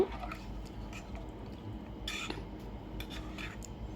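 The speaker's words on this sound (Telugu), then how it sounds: "మళ్ళీ దాన్ని బాగా కలుపుకోండి" A spoon scrapes and clinks against a pot while goat leg curry is stirred, with soft wet squishing and a few sharper metallic knocks near the middle, close and fairly quiet, no talking.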